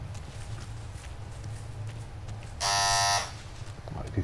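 A home doorbell buzzes once for about a second, a loud electric tone over quieter background sound.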